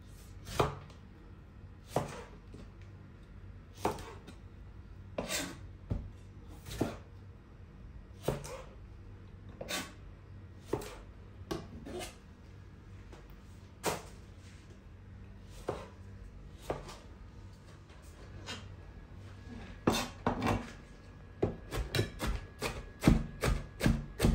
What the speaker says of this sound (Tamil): அதனால் 2 தக்காளியும் ஸ்லைஸாக வெட்டி போடணும்.